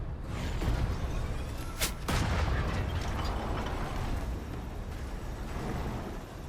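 Spotting rounds fire in a tank video game amid a constant heavy battlefield rumble, with one sharp burst standing out partway through.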